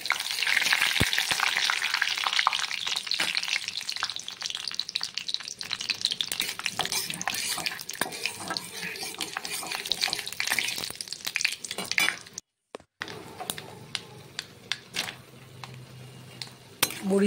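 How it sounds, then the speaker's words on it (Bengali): Spices and lentil dumplings sizzle in hot oil in a wok, a loud, continuous frying hiss with occasional stirring clinks close by, briefly cutting out near the end before resuming. "ফোড়নটা ভালো করে ভাজা হলে বড়িগুলোকে ভেজে নেব।"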